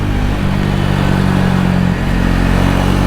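A 2024 Triumph Speed 400 single-cylinder motorcycle drones close and loud under riding, its engine note shifting briefly as it moves through the gears, with steady wind rumble.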